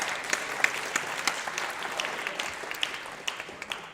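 School concert audience applauding, a steady patter of many hands from a mid-sized crowd, fairly soft and even, with a few sharper claps standing out.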